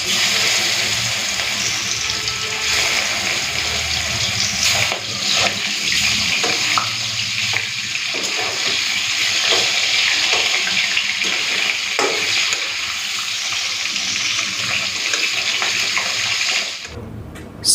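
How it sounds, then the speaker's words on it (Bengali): Bhetki fish head frying in hot oil sends up a loud, continuous sizzle with spitting crackles and a few stirring knocks, running steadily until it cuts off abruptly near the end. "তেলটা ভালো মতো গরম করে নিয়েছি চলুন মাছগুলো দিয়ে দিই"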